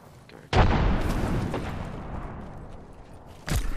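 A frag grenade explodes in Apex Legends with a sharp, loud boom that rolls into a decaying rumble, followed about three seconds later by a second abrupt blast.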